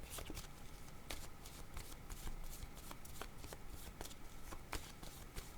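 Tarot cards being shuffled by hand before a reading, a steady run of soft riffling flicks and slaps close by, with no talking over it.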